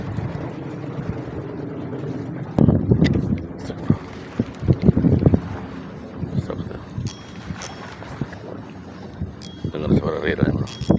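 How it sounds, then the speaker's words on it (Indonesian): Strong wind buffets a fishing boat at sea during snapper fishing, a continuous rough low rumble with louder gusts, faint voices underneath. "anginnya kenceng banget"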